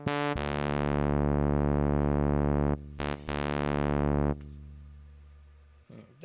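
A Yamaha PSS-480 keyboard synth played through an effects unit, holding a loud, bright sustained chord with rich harmonics that breaks off briefly, resumes, then decays and fades to a faint tail.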